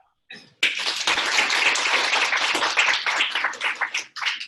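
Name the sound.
audience applause for Nicole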